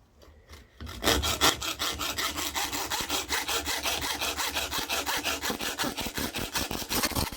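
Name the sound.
coping saw cutting layered aluminium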